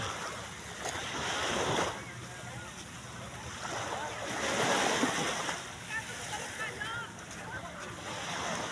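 Sea waves at Boracay island wash in a steady broadband rush, swelling and easing every few seconds, with wind noise on the microphone and light, indistinct background voices mixed in.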